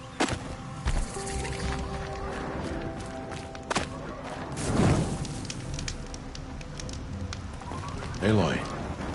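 Steady rainfall in the video game Horizon Zero Dawn, a continuous broadband hiss running throughout, with a brief swell near the middle and voices speaking over it at times.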